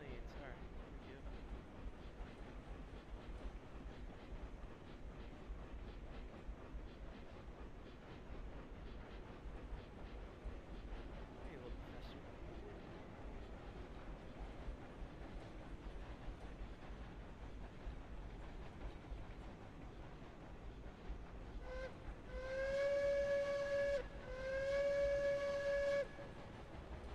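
A train in a railroad video game rolls along with a faint steady rumble, then blows two clear steam whistle blasts near the end, each about two seconds long.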